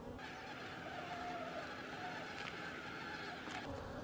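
Honey bees buzzing steadily around a hive during a swarm relocation, a dense, continuous drone of many insects close by, with no talk.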